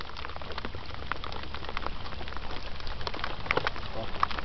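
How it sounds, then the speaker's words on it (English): Rain falls steadily outdoors during a fishing trip, a soft continuous patter with scattered drop ticks, and voices murmur faintly underneath. "it started to rain"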